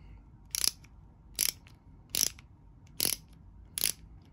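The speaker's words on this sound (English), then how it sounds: "So if I click it to the right and I want to screw something in, it works like a ratchet." Ratcheting screwdriver set to unscrew, giving five sharp, evenly spaced clicks close by, each a quick bright burst separated by near silence.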